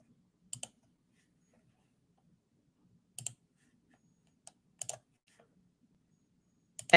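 Sparse, quiet clicks of keys being pressed on a keyboard come in small clusters separated by long silent gaps, ending with a brief louder burst.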